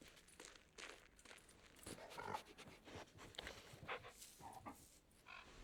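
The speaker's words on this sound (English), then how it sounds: "Pet the dog." A dog named Rudy in a puzzle video game pants softly in quick, steady breaths, with faint footstep-like shuffles, quiet and close.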